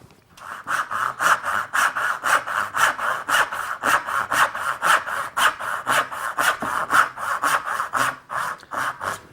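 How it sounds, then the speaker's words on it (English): A freshly hand-filed and set crosscut saw cuts through wood in steady, even back-and-forth strokes, about twenty rasping passes in a regular rhythm, loud and close with no talking. "the saw is cutting beautifully"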